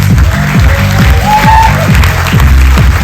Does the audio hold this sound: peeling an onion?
no